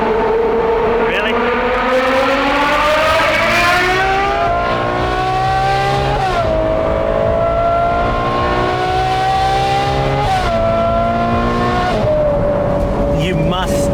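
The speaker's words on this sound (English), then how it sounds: "This Italian V12 Symphony." A loud, high-pitched Ferrari 812 GTS V12 with a Novitec N-Largo exhaust revs and shifts repeatedly, rising in pitch then dropping, with a raspy sports exhaust howl close by.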